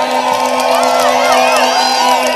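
Crowd at an outdoor political rally cheering and whooping for a sports minister, a dense continuous roar of voices with shrill rising shouts, loud and unbroken.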